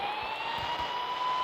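The siren of a yellow police car in the mobile game Indian Bike Driving 3D sounds as a steady, slowly rising electronic wail over engine rumble, continuous and fairly loud, with no speech.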